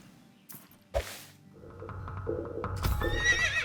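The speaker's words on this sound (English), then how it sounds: "we're going to try and get closer to this horse" A horse in the video game Quinfall gives a loud, close whinny that rises and falls over about two seconds, preceded by a couple of sharp snorts or thumps.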